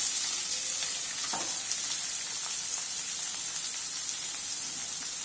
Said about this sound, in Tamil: இது வந்து நல்லா டீப் ஃப்ரை ஆகணும்.